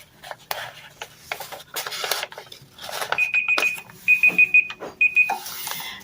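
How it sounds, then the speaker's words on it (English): An electronic alarm beeps in short rapid bursts, three quick clusters of high chirps, over rustling and light handling noises. "that is my alarm telling me that I am 15 minutes in"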